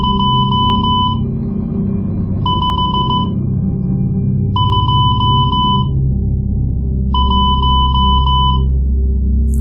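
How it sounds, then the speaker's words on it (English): Morse code beeps sound as four evenly spaced bursts of bright electronic tone, each about a second long, over a low background hum, with no talking. "I'm going to send it in Morse code."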